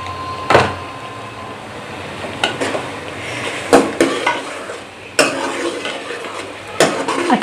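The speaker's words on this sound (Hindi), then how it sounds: "अच्छे से इसको भून लेना है।" Spices, among them crushed chilli, turmeric and black pepper, fry in a pan with a steady low sizzle, while a spoon scrapes and clatters against the metal in sharp intermittent strokes, close and without talk.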